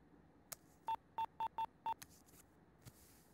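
A telephone keypad is dialed, giving five evenly spaced DTMF tones in quick succession, faint against a quiet room, with a few soft clicks before and after.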